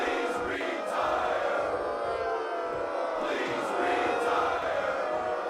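A wrestling crowd at an independent wrestling show chants together in a steady, rhythmic roar. The sound is loud and sustained and fills the whole space, with no single voice standing out.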